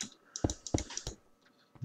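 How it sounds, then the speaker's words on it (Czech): A laptop mouse gives a handful of sharp, close clicks in an uneven rhythm against a quiet room background. "Tyhle, možná slyšíte moji kvalitní myšku od notebooku."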